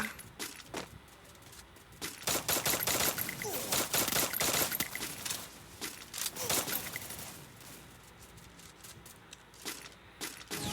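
Rapid bursts of gunfire in the video game Free Fire, dense crackling volleys that run almost continuously, loud and close, with brief lulls and a voice faintly underneath.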